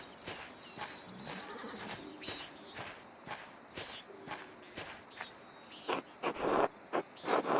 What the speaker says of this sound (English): Mayor Klaus, tend to the horses and the baggage